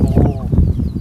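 Chickens cluck as they peck and feed, with short overlapping calls up close amid farmyard background noise and nearby voices talking.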